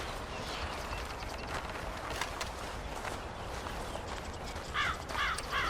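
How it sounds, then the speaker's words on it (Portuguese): Birds chirp in short bursts across a video game forest, sitting over a steady rush of wind through leaves, with a brighter cluster of calls near the end. "Vai ter o som dos pássaros indo de um lado para o outro."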